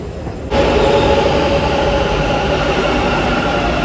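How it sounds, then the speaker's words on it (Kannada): A metro train at Yeshwanthpur metro station rushes in with a sudden loud onset, then a steady heavy rumble and rail whine that fill the space, with no talk. "ಮೆಟ್ರೋ ಸ್ಟೇಷನ್ ಹೋಗೋಣ ಯಶವಂತಪುರ್ಗೆ"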